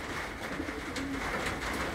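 Young racing pigeon cooing close by in soft, repeated low coos over a steady background hum, with no talk.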